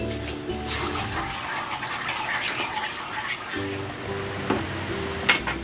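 Pork broth from boiled pork belly pours steadily into a pot with a continuous gushing splash, fairly close, over a faint low hum.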